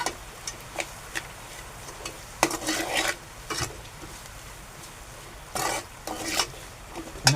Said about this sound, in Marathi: परत परतून घेऊ आपण